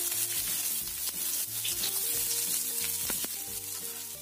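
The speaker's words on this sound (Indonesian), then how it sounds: "Kita tumis dulu bumbunya, bawang merah, bawang putih," Shallots, garlic, ginger and onion sauté in about three tablespoons of hot oil for crab in oyster sauce, a loud, dense close sizzle with faint tonal hum underneath and no talking.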